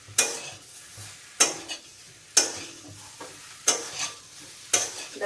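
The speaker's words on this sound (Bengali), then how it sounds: "এবার সবজিতে দিয়ে দেবো হলুদ, জিরে, ধনে গুঁড়ো, ভালো করে মিশিয়ে নেবো।" Vegetables being stirred in a pan with turmeric, cumin and coriander powder, a spoon scraping in regular strokes about once a second over a soft, steady sizzle, close and clear with no talking.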